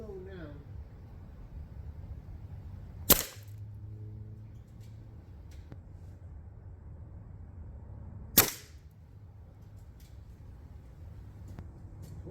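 An Air Venturi Avenger / Terminator A-Tac air rifle fires at frozen water outdoors, giving two sharp, isolated cracks several seconds apart over a low steady background hum.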